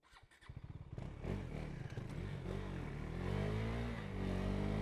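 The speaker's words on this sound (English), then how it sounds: "So let's take the KTM Duke 390 to some corners and curves of Gran Canaria" A KTM Duke 390 with about 18,500 km ticks over briefly, then revs and pulls away loudly on the roads of Gran Canaria, its engine note rising and holding as it accelerates off, with no talking.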